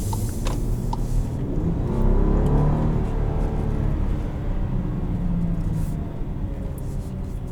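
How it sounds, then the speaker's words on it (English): A 2021 Volkswagen Atlas SEL V6 accelerates from inside the cabin, a steady low engine drone and rising tonal hum that holds at a fairly constant level throughout, with no talking. "I love the Volkswagen V6. It is a phenomenal engine."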